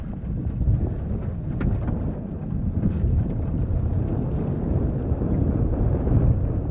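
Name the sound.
boat engine running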